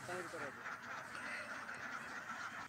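Six-month-old Khaki Campbell ducks quack faintly in a flock, with a cluster of calls near the start and softer background quacking after that, under a low murmur that may be a voice.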